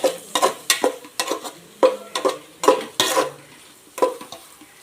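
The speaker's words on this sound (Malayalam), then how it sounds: "നന്നായി ഒന്നിത് നമുക്ക് ഇളക്കാം." Masala is stirred in a cooking pan while chicken biryani is prepared, a steady run of close scraping strokes with light sizzling between them.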